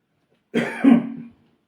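A single harsh cough close to the microphone, followed by a raspy throat-clearing rumble, then silence.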